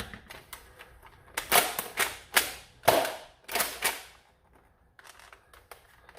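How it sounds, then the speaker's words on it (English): A Rival Takedown toy blaster is primed with a series of sharp plastic clacks and ratcheting clicks, several loud bursts in an uneven rhythm, up close, with softer handling noises between them and no speech. "should be able to prime a blaster"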